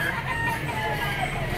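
A nine-month-old stag, a young rooster, crows at the Lipa auction market amid clucking fowl, the call steady over a busy background hum of the market.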